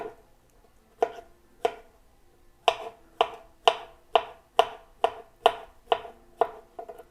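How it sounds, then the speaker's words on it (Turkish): A knife chops mushrooms finely on a board for a milky mushroom soup, about a dozen crisp, sharp knocks, sparse at first and then in a quicker steady rhythm, each close and distinct against a quiet background. "Mantarlarımızı ince ince doğradım."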